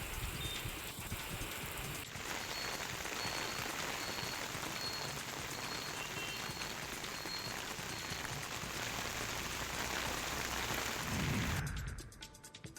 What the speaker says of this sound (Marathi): सिंधुदुर्ग जिल्ह्यात सकाळपासून पावसाची रिपरिप सुरू आहे